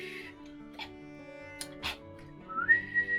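A person whistling in imitation of a warning whistle during a home-brew D&D 5e game, a short sequence of faint sustained tones ending in a brief rising note, close and without speech.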